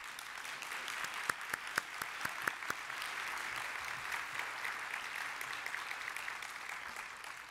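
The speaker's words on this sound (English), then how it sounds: "let's give them a big round of applause" Audience applause fills a hall at a 2017 pulmonary fibrosis foundation summit, a steady wash of clapping from a large crowd with a few sharp, nearer claps standing out early on, moderately distant and sustained throughout.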